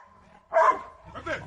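A white dog fighting against a tiger lets out a single sharp bark followed by a softer yip, close and loud, over a faint background tone.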